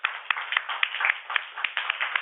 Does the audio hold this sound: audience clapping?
yes